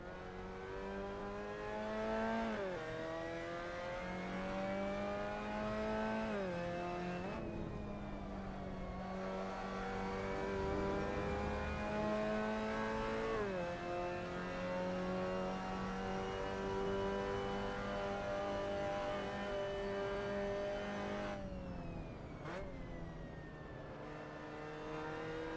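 Mazda MX5 race car lapping Brands Hatch Indy in a racing video game, its mid-pitched engine droning steadily near and loud, rising through revs and dipping at gear changes and braking for about twenty-five seconds.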